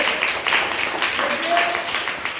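Schoolchildren in a classroom clap for a classmate's correct answer, a brief, uneven patter of hands at moderate volume, with a voice or two murmuring underneath.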